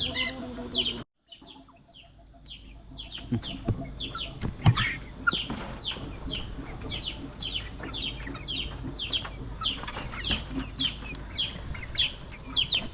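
A hen clucking repeatedly nearby amid a busy chorus of high peeping chirps from Kadaknath x Brahma crossbreed chicks, going on steadily for several seconds.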